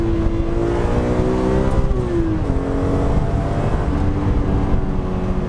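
A BMW Z4M engine revs with a metallic fizz, a loud, steady, buzzing drone whose pitch rises slightly and dips once before holding, with no talking.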